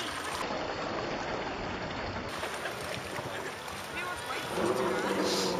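A boat passes close to swimmers in warm water at Maya Bay, its engine a steady wash of broadband noise with splashing water, swelling louder near the end while people talk nearby.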